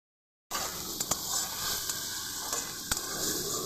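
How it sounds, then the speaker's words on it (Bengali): Prawns coated in salt and turmeric frying in hot oil in a wok, a steady close sizzle with a few sharp spatters and clicks throughout, no voices. "এবার মাছ ভেজে নেব।"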